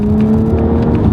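A 2018 Audi S5 Sportback's turbocharged engine revs briefly and loudly up close, a strong steady drone with a clear tonal whine.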